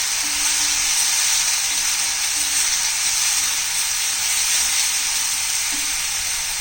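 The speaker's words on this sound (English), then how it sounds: "saute it on medium flame for half a minute" Ginger, garlic and chili paste sautéing in a pan on a medium flame, giving a steady, close, continuous sizzle and hiss with no pauses.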